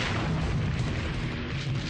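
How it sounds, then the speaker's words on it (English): A tank gun fires on a hotel room where a sniper is hiding, heard as a heavy, sustained roaring blast that stays loud and dense across the moment. "they ask the tank gunners to fire at the room and destroy it."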